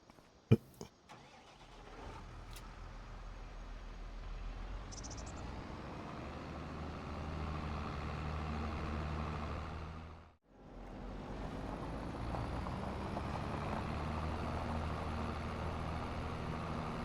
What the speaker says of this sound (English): Get in the tractor.